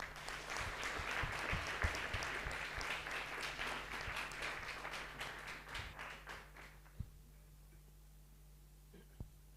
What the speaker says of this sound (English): Please help me to applaud for them.